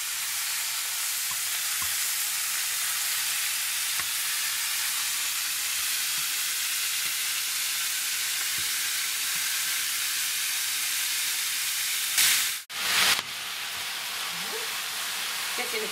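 Steady, close sizzling hiss of beef rolls searing in a hot pan, continuous throughout with a brief louder clatter near the end.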